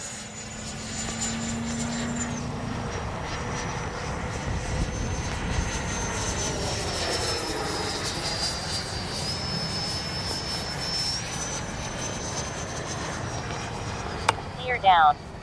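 A Freewing 90mm F-15C Gulf Spirit RC jet flies overhead with a steady whining electric ducted-fan roar that shifts in pitch as it passes, heard from a distance, with a voice speaking over it.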